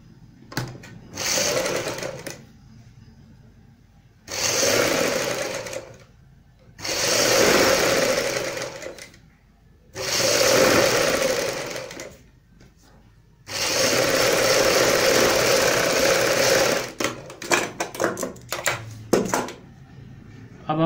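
Sewing machine stitching lace onto the hem of a salwar, running in several loud bursts of a few seconds each separated by short pauses, ending in quick choppy stops and starts.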